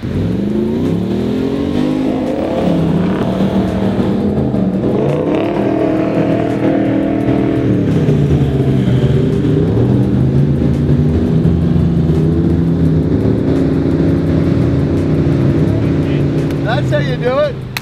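Heavy engines of Land Cruisers and a Patrol 4WD rev and strain continuously during a double-car recovery in soft sand, pitch rising and falling as the vehicles labor, loud and close throughout.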